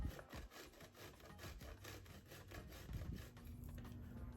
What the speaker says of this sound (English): So first I'm going to start by grating the cocoa sticks.